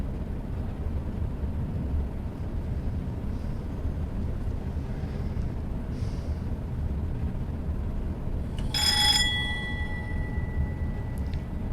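A single bright electronic bell rings for a clear AWS signal in Train Sim World 2021. It rises over a steady low rumble of a train in the cab and fades after a second, with no voices.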